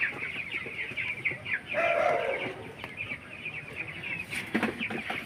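Rhode Island Red chickens in a backyard coop cluck close by, a steady run of short calls and squawks with rustling under them.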